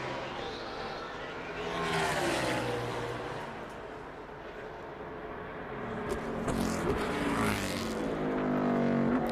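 A NASCAR Cup Series race car lapping Indianapolis during the 2021 Verizon 200 qualifying, its engine note rising and falling as it sweeps past twice, once early and once near the end, with broadcast background between passes.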